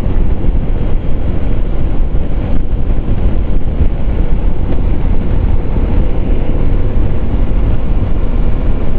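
An off-road vehicle driving at top speed on the rough trail to Bilikal Ranganath Swami Betta off Kanakapura Road near Bengaluru, heard as a loud, constant roar of engine, tyres and buffeting wind.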